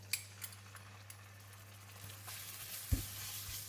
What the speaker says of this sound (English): I'm going to put in the garlic oil in the pan. Just wait for the oil to heat up. And we're going to put in the minced pork.